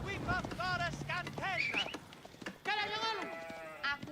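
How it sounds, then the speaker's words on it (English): Sheep bleat several times in an Age of Empires-style strategy match being shown at a tournament, the animal calls overlapping with ongoing commentary. "Sheep getting dropped off."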